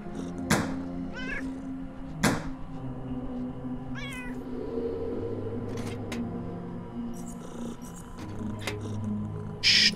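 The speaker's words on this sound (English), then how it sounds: "I keep hearing that cat, chat." A cat in the video game Underrail gives a few short, distinct meows spaced apart, heard faintly over a low steady game ambience with occasional sharp clicks and thumps.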